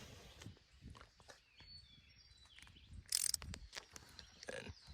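Ratchet with an 11 mm socket working on a 1995 BMW 318i engine: quiet, close clicking strokes with metallic taps and one brief sharper burst of noise partway through, no talk.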